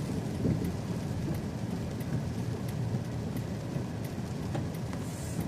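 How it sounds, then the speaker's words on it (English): Steady, heavy rain pours down during a summer storm, a dense continuous wash of drops heard from inside a car, with no voices. "Looks like the rain's trying to let up"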